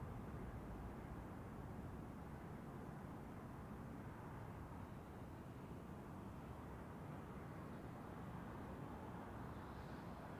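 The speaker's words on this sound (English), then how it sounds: "United Airlines speeding down runway 16 for takeoff" A United Airlines airliner roars down runway 16 at Zurich Airport on its takeoff run, a steady, distant broadband jet rumble that holds constant throughout, with no voices.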